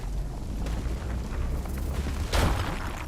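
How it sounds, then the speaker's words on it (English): In the video game RuneScape Dragon Wilds, a rock explosion sounds as one sharp, loud blast late on, over a low, rumbling background. "Let's see here, rock explosion."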